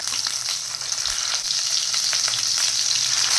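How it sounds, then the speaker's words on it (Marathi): Masala paste frying in hot oil with cumin seeds for a rural-style spicy egg curry. A steady, bright sizzle hisses evenly and close throughout, with no talking. "आता हा मसाला आहे ना आपण या तेलामध्ये छान फ्राय करून घ्यायचा आहे"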